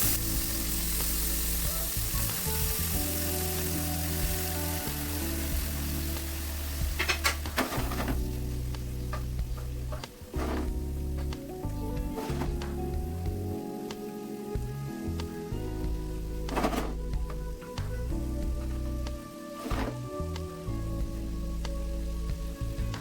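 Paneer pieces fry in a pan with butter and peas, giving a steady, close sizzle that lasts throughout with occasional clicks and pops and no talking.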